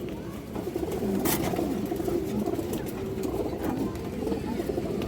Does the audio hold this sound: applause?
no